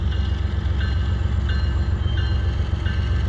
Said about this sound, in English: This unit train came in earlier today and tied down in the yard and is now heading westbound off the former C&W main line onto the Transcon line.